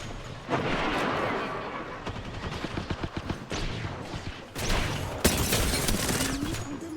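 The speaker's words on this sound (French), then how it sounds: "Je suis sous les tirs." Rapid bursts of gunfire and heavy weapon blasts from the video game Apex Legends, dense and loud throughout, with a sharp impact near the middle and a fresh surge of shots toward the end.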